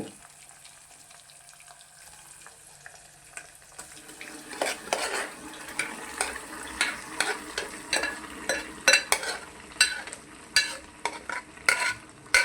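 A spoon stirs and scrapes around a pan as lentils go into a sizzling tempering, over a steady oily sizzle, with quiet hissing first, then repeated clicks and scrapes growing busier.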